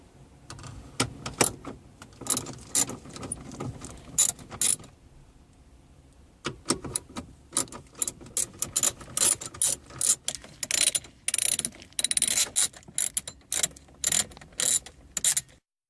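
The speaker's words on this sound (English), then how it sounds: "Remove the 4 bolts holding the radio assembly." A ratchet removes bolts from a car radio assembly, with close, rapid clicking in repeated bursts, a short pause, then more quick ratcheting runs and light metallic rattles.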